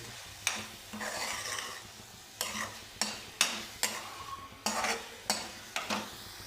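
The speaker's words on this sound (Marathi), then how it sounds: "भाजून घ्यायचा आहे हा ओला मसाला तेल सुटेपर्यंत" Wet masala paste frying in oil for aloo curry, with a steady sizzle broken by about ten sharp, close spoon scrapes and stirs against the pan.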